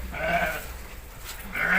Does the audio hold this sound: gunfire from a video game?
no